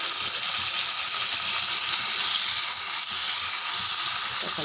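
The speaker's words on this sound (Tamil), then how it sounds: "தக்காளி நல்லா வதங்கட்டும்." Halved tomatoes sautéing in a pan for a chana dal tomato chutney, giving a steady, loud, continuous sizzle and bubbling hiss with no pauses.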